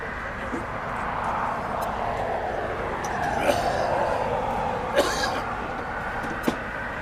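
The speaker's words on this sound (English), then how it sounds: "I think we've got a MAX 8 taking off here to Denver" A Boeing 737 MAX 8 airliner takes off at LAX with a broad, swelling jet roar that rises and shifts in pitch, heard from a distance among sharp nearby clicks and faint background noise.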